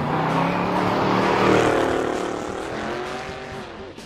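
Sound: Mustang Mach 1 car driving in Assetto Corsa video game

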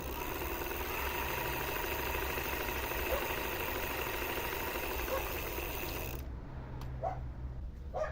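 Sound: electric hub motor gears running in

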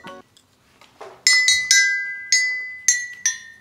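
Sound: toy xylophone being played

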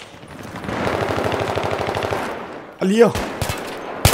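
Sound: gunfire from a video game (Battlefield 3)

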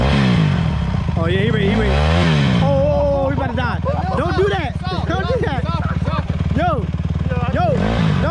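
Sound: dirt bike engine revving

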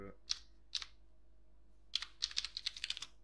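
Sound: typing text on a computer keyboard

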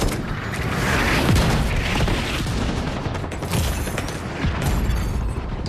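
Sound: mortar explosions in video game The Division 2

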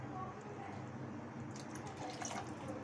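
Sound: water poured into a pot for Maggi noodles

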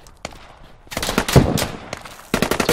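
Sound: gunfire in the video game Squad

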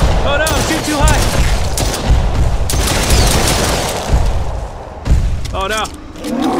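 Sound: gunfire in the video game Brookhaven

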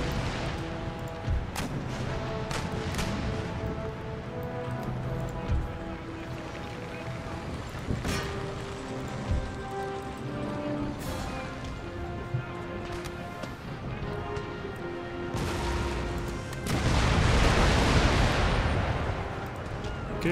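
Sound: cannons firing chain shot in the video game Empire: Total War

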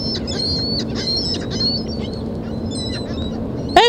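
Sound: birds calling

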